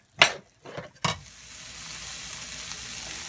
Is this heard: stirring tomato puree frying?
yes